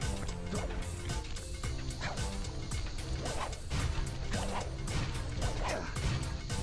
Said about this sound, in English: Sure was nice of them to keep these blast doors on top of the flamethrowers.